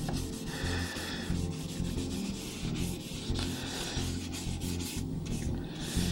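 A thin finish coat is rubbed by hand onto the wooden stock of a VZ-52 rifle during restoration. A steady, dense scrubbing and rubbing texture runs unbroken throughout, close up and without speech.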